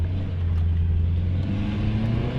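Car engines idle and rumble steadily nearby at a car meet, a low droning hum with vehicles revving slightly as they roll in, no talking.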